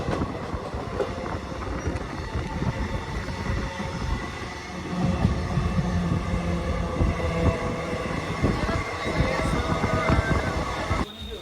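Kanchanjungha Express train running through Nalhati junction, a continuous loud rumble with rhythmic clickety-clack of wheels over rail joints, heard from on board and sustained throughout.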